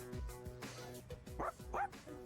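Dog barking in Persona 3 Reload, a few short yips and bow-wow barks in quick succession over steady game music, fairly close and moderately loud.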